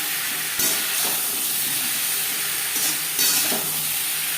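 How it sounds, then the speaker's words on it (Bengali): Koi fish frying in a pan for a mankochu curry, with garlic, tomato and onion to follow, makes a steady close sizzle and hiss with occasional stirring bumps. "2-3 মিনিট ভেজে নেওয়ার পর দিয়ে দেবো রসুন, টমেটো, পেঁয়াজ।"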